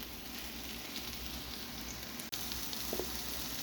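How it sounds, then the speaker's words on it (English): Mushrooms browning in a hot pan for a mushroom stroganoff give a steady, close sizzle and fry with no talk, broken by one brief dip and a faint clink near the end. "And then we're going to brown these up for a bit. We're going to cook them for about 5 minutes."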